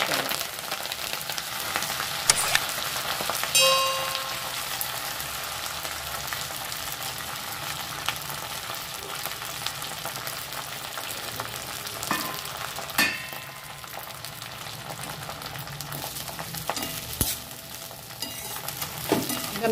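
Curry leaves frying in hot oil, a steady close crackling sizzle with scattered sharp pops and a few metallic clinks, running continuously at moderate loudness.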